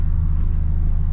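A supercharged Acura RSX engine holds a steady low rumble at raised revs, loud and close, outdoors in cold air with no talk over it.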